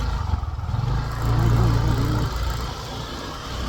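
A motorcycle engine hums steadily while the bike is ridden slowly one-handed, its tone rising briefly in a mid-range drone over wind and road rumble.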